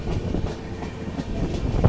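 Passenger express train running between Visakhapatnam and Secunderabad slows down on a loop line, with a steady low rumble and soft rhythmic wheel clatter heard from on board, continuous and fairly loud.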